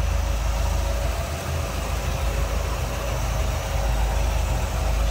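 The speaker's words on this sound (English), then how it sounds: "Smooth running engine." A 1955 Chevrolet Bel Air engine idling steadily with a smooth, low rumble, constant and even throughout, no voices.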